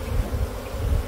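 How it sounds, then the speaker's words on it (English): Honey bees hum close by on a piece of hive frame as honey is taken off, a brief, low, steady buzz with slight pulsing. "there's still some bees on this piece and they're not bothering me one bit at all"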